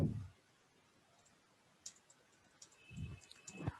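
A few light mouse clicks on a CAD dialog, sparse and close, with faint ticks in an otherwise quiet room.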